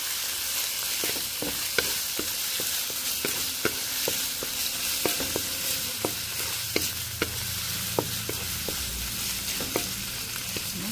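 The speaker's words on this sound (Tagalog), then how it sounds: "Inalis ko muna yung ibang sahog para magisa ko lang muna to yung ating pork." Pork sautéing alone in a pan for spicy bopis, a steady close sizzle of frying with repeated sharp scraping clicks from stirring, no talk.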